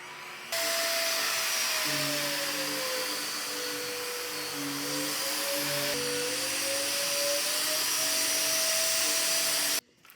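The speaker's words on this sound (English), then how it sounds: "let's get the back cushions vacuumed as well" A vacuum cleaner runs steadily over fabric sofa back cushions, its loud continuous whine shifting slightly in pitch as the nozzle moves, then cutting off abruptly near the end.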